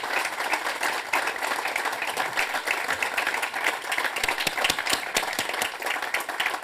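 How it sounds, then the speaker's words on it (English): Audience applause at a live event, steady dense clapping from a roomful of people, loud and continuous for several seconds with little else heard. "Round of applause."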